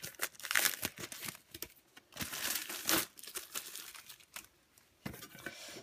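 A Panini sticker tin and its packets are handled and opened, producing bursts of close crinkling and tearing foil, with irregular rustles and brief pauses in between.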